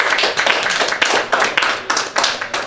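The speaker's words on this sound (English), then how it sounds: "Big round of applause." A bar crowd at a wrestling talk event claps steadily in a quick, uneven rhythm. The applause is close and fairly loud, with no speech over it.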